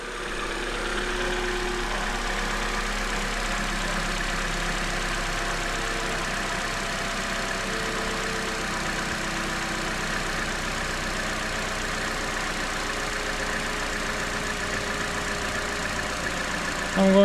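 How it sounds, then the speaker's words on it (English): Opel Corsa D 1.4 engine idling smoothly after a timing chain replacement, a steady, moderately quiet hum with a faint tonal whine, unchanged throughout and free of speech. "I'm going to let the engine to idle until it reaches normal working temperature"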